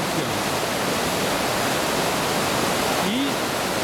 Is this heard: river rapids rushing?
yes